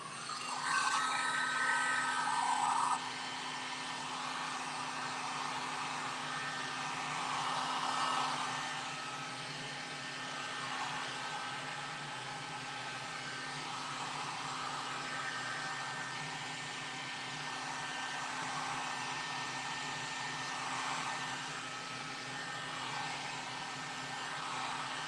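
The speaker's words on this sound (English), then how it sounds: "with the heat gun." Heat gun blowing hot air while working on a Road King motorcycle lowrider pattern, a steady, fairly faint roaring whoosh lasting throughout with a slightly louder opening few seconds.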